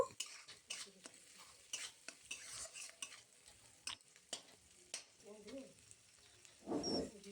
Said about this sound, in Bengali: আদা রসুন দিয়ে আবারও ভালোভাবে মিশিয়ে নিচ্ছি